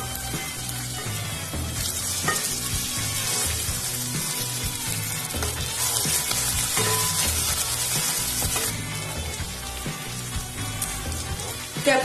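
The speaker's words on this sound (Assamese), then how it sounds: "এয়া কেপচিকাম দিছো আৰু এয়া জলকীয়াখিনি দিছো। অলপ সময় ভাজি দিম।" Capsicum and green chillies fry in a hot pan for chilli paneer, giving a loud, steady sizzle with bursts of crackle and hiss that run the whole time with no voices.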